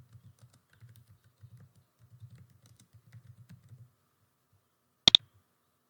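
Typing on a computer keyboard, soft close clicks in irregular bursts for about four seconds, followed after a pause by a single sharp louder click.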